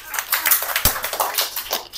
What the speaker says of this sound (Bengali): তাহলে নিজেদের জন্য নিজেরা হাততালি দাও।